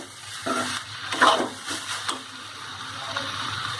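Mung bean sprout vegetable stir-fried in a pan, with a soft continuous sizzle and a few scraping stirs of the spatula against the metal, at moderate close range.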